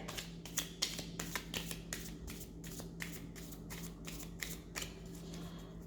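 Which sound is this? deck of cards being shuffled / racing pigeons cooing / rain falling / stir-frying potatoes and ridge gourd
deck of cards being shuffled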